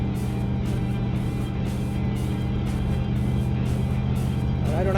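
A Chevrolet Corvette L36 convertible drives along a road, its engine giving a steady low drone with constant tire and road noise and no clear revving.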